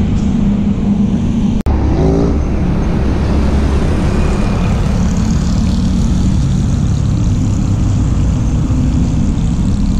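Trucks and other vehicles passing on a highway, a continuous loud roar of engines and tyres close by, with a sharp click near the start and a passing vehicle swelling then fading.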